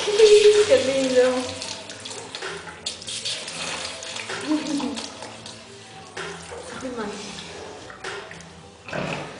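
Water gushes and splashes from a valve on a pig drinking system in a pig pen, coming in uneven bursts as animals press it, with people talking over it.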